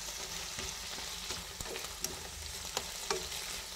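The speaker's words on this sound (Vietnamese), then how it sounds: "Đấy, mình đảo qua như vậy cho nó thơm thôi" Pickled mustard greens fried and stirred in a pan, a steady close sizzle with sharp scraping clicks of the spatula at intervals, no voices.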